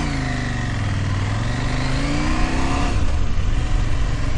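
A 2019 KTM 790 Adventure S motorcycle accelerates away on a ride, its engine note climbing steadily through the revs, then shifting and pulling again, loud and close with wind rush.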